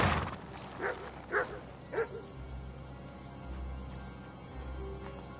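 A dog in the video game Kingdom Come Deliverance 2 gives a few yipping barks and whimpers in quick succession at moderate distance, then settles under a low rumbling ambient bed.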